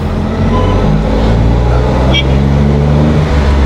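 An Ashok Leyland Dost Strong CNG truck is driving, with a loud, steady engine drone and rising tonal hum heard from inside the cab, while someone speaks over it.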